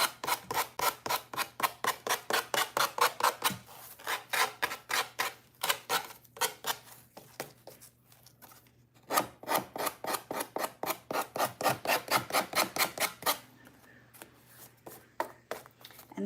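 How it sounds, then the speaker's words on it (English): The wooden edges of a mason jar hanger are sanded by hand in quick rhythmic rasping strokes, close and steady, with a short pause midway and a fainter stretch near the end. "let's go ahead and sand those edges."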